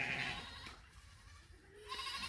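Goats bleat several times near a creek crossing, one wavering cry near the start and another toward the end, over soft outdoor background noise.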